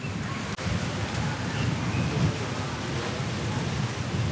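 Strong outdoor wind roars and buffets steadily under a cloudy sky just before rain, a loud continuous rumble with no voices.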